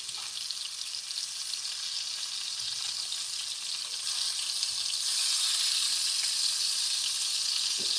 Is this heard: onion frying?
yes